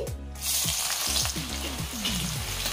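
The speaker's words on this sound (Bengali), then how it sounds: "পেঁয়াজটা একটু নেড়েচেড়ে নিচ্ছি।" Chopped onion sizzles in hot oil with tempered whole spices while a spatula stirs it, the scraping strokes repeating every half second or so over a steady, close, loud fry.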